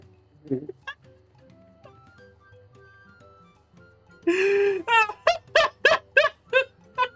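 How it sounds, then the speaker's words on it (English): Cat meowing in the video game Final Fantasy XIV: a long, loud meow suddenly breaks in over faint game ambience, followed by a quick run of short, sharp meows close up. "Just a cat noise out of freaking nowhere, Phil."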